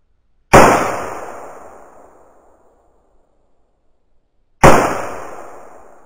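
Two loud, close gunshots several seconds apart striking a hanging steel target, each a sharp crack with a long ringing decay that fades to silence.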